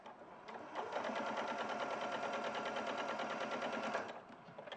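A sewing machine stitching a patchwork seam runs in a fast, even mechanical chatter for about three seconds, starting and stopping cleanly, close and moderately loud.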